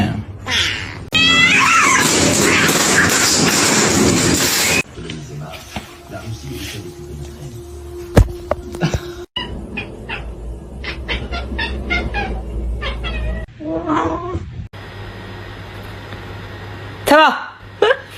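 Cats meow and caterwaul in several short bursts, loud and close, mixed with other animal-like squeals and abrupt cuts between clips; a human voice can be heard at points.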